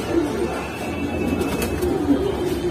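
Pigeons of Lahori and Sirazi breeds coo in a low, steady murmur at close range, with soft repeated coos over a continuous background hum and no one talking.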